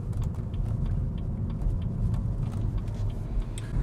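A car drives onto a roundabout during a driving lesson, its engine droning steadily under even road noise from inside the cabin, with no talk.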